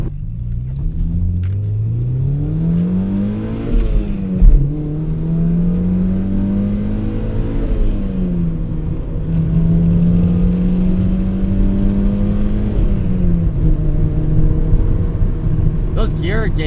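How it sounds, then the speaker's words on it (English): A Mazda Miata NC track car with a stock clutch kit, its engine loud and close as revs climb, drop quickly on shifts and rise again through the gears, with some talk over it. "The revs drop and raise really quickly."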